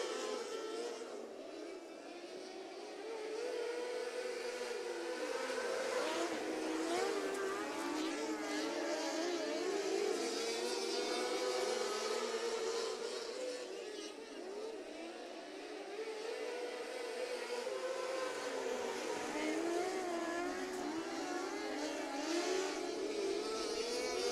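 Micro sprint race cars run single file around a dirt track at a night race at Rush County Fairgrounds. Their engines blend into one continuous high-pitched drone that swells and fades steadily throughout, with no clear gaps.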